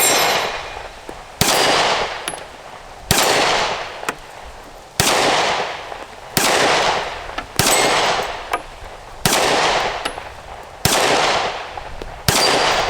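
Taurus GX4 pistol firing Winchester ammunition outdoors, about nine loud, evenly spaced shots roughly every 1.5 seconds, each with a sharp crack and a ringing tail.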